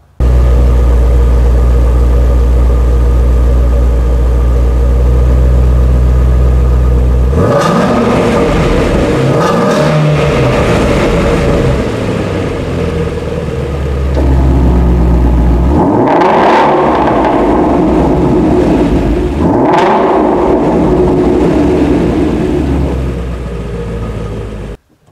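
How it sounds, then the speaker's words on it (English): A 2019 Ford Mustang Shelby GT350's dual exhaust idles with a deep, steady rumble, then bursts into several loud, close revs that rise and fall before settling back to idle. "give you a little sound clip of what this exhaust sounds like"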